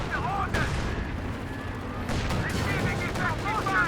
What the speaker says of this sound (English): M10's firing at the side here.